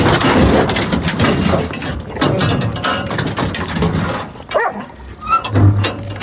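Several hunting dogs, let out of their box in a Florida marsh for a wild hog hunt, bark and yelp excitedly in a busy, overlapping chorus, with rustling and clattering movement throughout.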